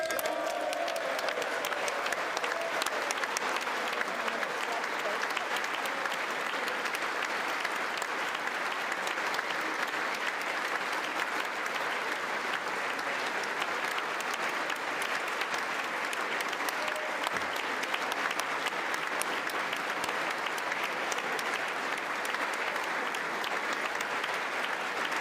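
A chamber crowd gives the visiting President of Ukraine a standing ovation, loud sustained applause that stays dense and unbroken for the whole stretch.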